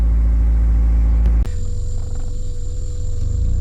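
A 1993 Honda Accord pulls away, its engine rumbling loud and close after a sharp knock, settling into a steady mid-pitched drone with no voices.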